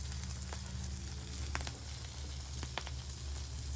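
Buttered pastrami Reuben sandwich sizzling on a griddle, a steady close hiss of frying with a few faint clicks and taps of a spatula over it.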